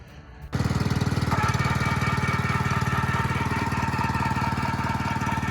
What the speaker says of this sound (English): Let's start it up and then take it out to the yard and see if it sprays good without any leakage.